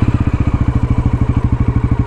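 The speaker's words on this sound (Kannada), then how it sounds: "ಗಾಡಿನ ಸ್ಟಾರ್ಟ್ ಮಾಡೋಣ." A 2024 Bajaj Pulsar NS400Z motorcycle engine runs just after starting, heard up close as a fast, even, throbbing exhaust pulse, loud and steady with no talking.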